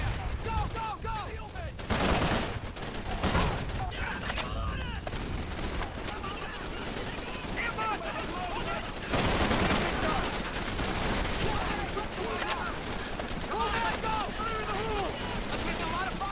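Video game gunfire from Call of Duty 3, with dense bursts of shots and automatic fire running continuously at moderate loudness while people talk over the battle.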